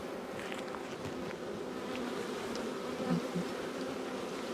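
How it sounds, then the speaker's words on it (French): Honeybees cover a frame from a populous hive and buzz in a faint, steady hum. A few individual bees fly closer now and then. "puis elles sont couvertes d'abeilles"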